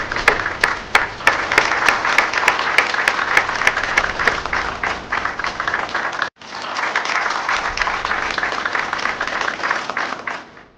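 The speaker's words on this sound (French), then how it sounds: "Tous vos applaudissements." A roomful of people at a corporate contract signing with Huawei in Congo claps steadily, a dense sustained applause with a brief break midway before resuming just as full.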